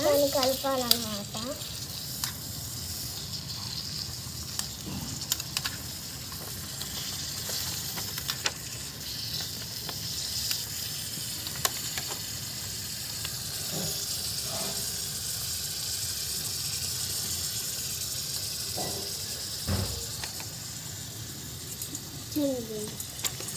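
Chicken for curry fries in a pan with a steady, close sizzle and hiss, broken by occasional stirring scrapes; a voice is heard briefly at the start and end.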